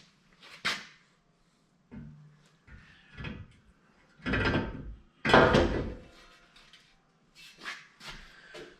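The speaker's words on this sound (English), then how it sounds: "So now I'll just set the bumper on here, make sure that still fits" A rear bumper being set onto an FJ Cruiser gives a series of separate knocks, thuds and scrapes, several louder clunks in the middle, with no talk.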